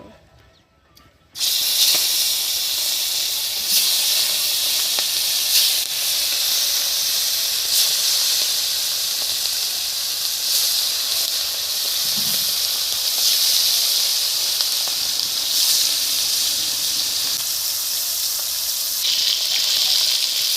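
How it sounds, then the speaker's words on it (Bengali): Snakehead fish coated in salt, turmeric and chilli fries in hot oil, a loud continuous hissing sizzle that bursts in suddenly and holds steady throughout. "এখন মাছগুলো ভেজে নেব"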